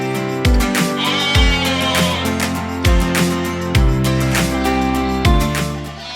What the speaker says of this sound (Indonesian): Sekarang kita akan kasih pakan untuk dombanya nih pemirsa.